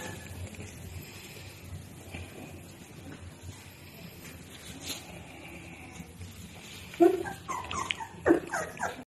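A dog whimpers during the bathing of an elderly man in a home bathroom. A few faint, high, thin whines come near the end over a quiet room background.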